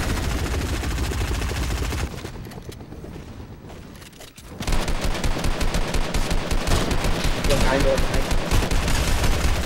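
Rapid assault rifle fire in the Fortnite video game, dense continuous bursts with a brief lull before the shooting resumes loud and sustained.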